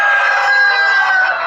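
Chickens on a six-storey poultry farm in Joypurhat district give a dense, continuous chorus of clucking and calls, close and loud, for a short stretch.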